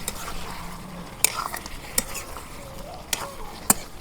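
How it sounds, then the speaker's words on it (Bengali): Chicken is stirred in a wok over a clay stove, with a soft background sizzle broken by several sharp metal scrapes and clanks of the spoon against the pan at irregular intervals. "আমি এই মাংসটা যত নাড়তাইছি অত পানি বাইরেতেছে, তাই মাংসটা আমি ভালো করে প্রথমে কষে নেই,"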